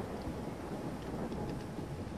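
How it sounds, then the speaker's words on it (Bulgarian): Thunderstorm in the video game Far Cry Primal, a dense, steady low rumble of thunder with rain and wind noise, moderately loud and continuous throughout, with no speech over it. "Това е тази буря тука изведнъж."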